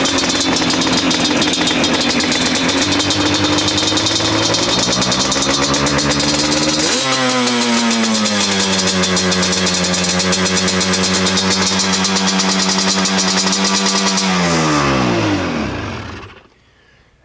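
A Yamaha Banshee ATV engine runs without choke at a high, buzzing idle, the pitch dropping sharply midway, holding steady, then sliding down as the engine winds off and stops.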